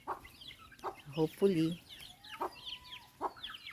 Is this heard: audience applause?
no